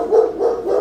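A dog barks loudly and close by in a steady run of deep, overlapping barks, with no talking.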